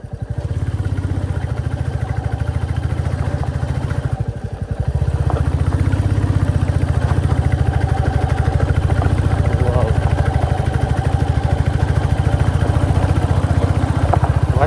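A Royal Enfield Bullet 350 Battalion motorcycle thumps steadily as it climbs a rough off-road hill track, a loud, close, continuous low engine pulse with brief dips and clatter, under occasional talk.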